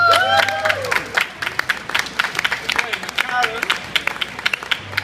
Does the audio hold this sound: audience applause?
yes